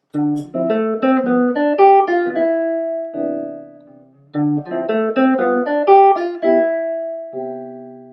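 A clean jazz guitar plays a flowing arpeggiated line of single notes over a ii-V-I progression that resolves to a held chord, then repeats the same phrase once more.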